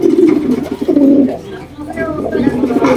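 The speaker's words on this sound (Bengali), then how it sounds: "আচ্ছা, ডাকতেছে নর আর ডান সাইডে যাচ্ছে মাদি।" A male pigeon coos in close, repeated rumbling phrases, with the birds shown as a jhorna satin pigeon pair, and someone speaks briefly over the cooing.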